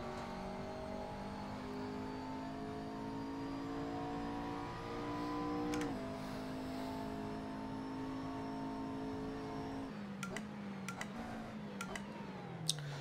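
A BMW race car in a racing video game, driven with a Thrustmaster T-GT wheel, holds a steady engine drone with shifting pitch and a gear change, followed by a few short clicks near the end.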